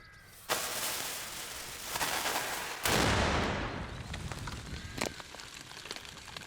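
A cannon fires a sabot shot at a thick Douglas fir target, giving a sharp blast, a louder boom about two seconds later and a rumbling decay, with scattered clicks and background noise afterward.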